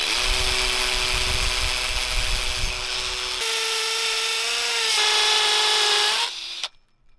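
A hammer drill boring pilot holes into masonry to hang a metal sign, a loud steady whining grind that shifts pitch twice before cutting off abruptly near the end.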